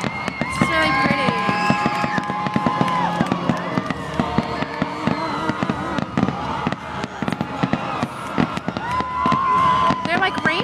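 Fireworks exploding in a sky display, a dense series of sharp bangs and crackles with whistling streaks, while nearby people cheer and talk throughout.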